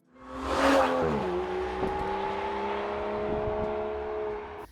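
A 5.2-litre twin-turbocharged Aston Martin V12 roars loudly up through the revs, then settles into a steady, sustained high-pitched drone that holds for several seconds, close and alone with no voices.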